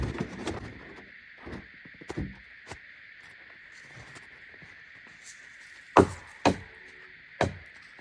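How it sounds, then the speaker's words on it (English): Scrap microwaves sitting outdoors in snow are knocked clean, giving sparse, sharp thuds and taps at irregular intervals, a few louder near the end, over a faint steady hiss. "Knock some of the snow off of them."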